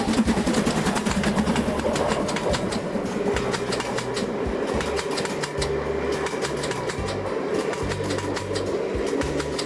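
A train rumbles past close by in the Scottish Highlands, its wheels clattering in a steady rhythmic clickety-clack over a loud continuous roar.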